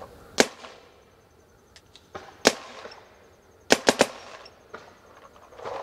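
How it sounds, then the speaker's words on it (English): A Dye DSR and a Dye M3 Plus paintball marker, chronographed at about 285, fire sharp, loud single shots close by, some spaced apart and some in quick pairs and triples, with faint mechanical clicks between them. "today we're going to do a sound comparison between a Dye DSR and an M3 Plus"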